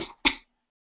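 Two short, sharp bursts close by, a quick double cough with a brief pause between, then silence.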